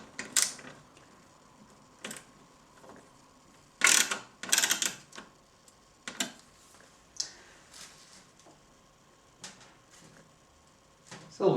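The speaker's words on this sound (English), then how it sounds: "silver screws used to fasten the rest of this up" Small metal screws being driven into the chassis of a Technika LED32-E251 LED TV during a logic board replacement, heard as scattered sharp clicks and ticking bursts, close and fairly quiet, with no talking.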